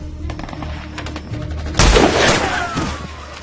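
Gunfire in an action movie: a single loud, sharp blast cracks out after a quiet stretch and trails off in a rolling echo.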